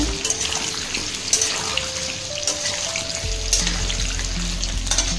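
Potato pieces frying in hot oil for a Bengali chicken and potato jhol give a steady, fairly loud sizzle with crackling bursts throughout, with a low rumble entering partway through and no talking.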